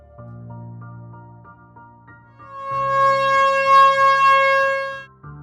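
A loud, blaring car horn used as a dramatic sound effect. A long, steady tone swells and grows piercing, holds, then cuts off abruptly.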